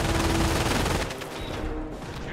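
A video game artillery barrage rolls in with dense gunfire, a continuous loud wash of shots and blasts that thins slightly toward the end.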